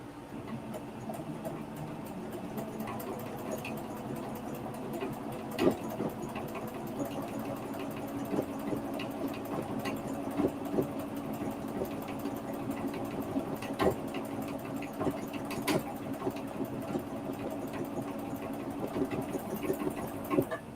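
A domestic sewing machine embroiders with a low, steady mechanical whir and a faint rapid needle rhythm, quiet and continuous for about twenty seconds, its bobbin nearly empty and the sound slightly off.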